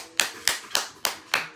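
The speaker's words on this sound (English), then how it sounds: "Clap your hands." A small child claps hands five times in a steady, even rhythm, each clap crisp and close, with brief quiet gaps between and no talking.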